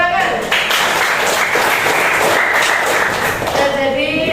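Classroom clapping as pupils applaud a classmate, a loud, continuous patter of hands heard alongside a voice talking over it.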